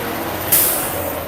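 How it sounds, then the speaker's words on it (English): A big American school bus passes loudly with a sudden sharp hiss of air that fades slowly, over a steady, broad rumble of street traffic. "I love a big old American school bus."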